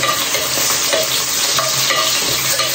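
Onions sautéing in a pan for chicken curry, a steady close sizzle with frequent scraping stirs of the spatula, no voices.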